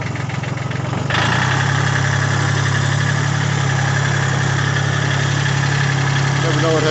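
A 1980 Kubota tractor that has sat unused for a long time is put in gear and pulls away, its diesel engine rising to a loud, steady, throbbing run after a brief idle at the start, close by.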